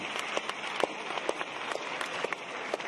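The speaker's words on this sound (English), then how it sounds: "I just want to collectively give them applause." A crowd at a museum talk applauds steadily, a dense wash of clapping with a few sharper individual claps standing out, sustained and fairly loud.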